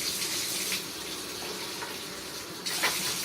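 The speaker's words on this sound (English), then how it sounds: "And I'm just going to hold my trumpet under the faucet." Lukewarm water runs steadily from a faucet over trumpet parts, with a brief surge near the end and a continuous close splashing hiss.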